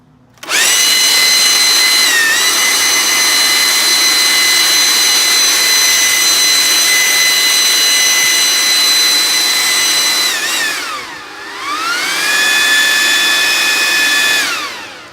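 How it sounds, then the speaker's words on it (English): Ryobi 40V lithium battery leaf blower running at full power, a loud, close, steady high whine with strong tonal harmonics that dips briefly near the end, then spins back up to full speed. "Ryobi lithium blower, and I'm actually running this off the same battery I used on my edger"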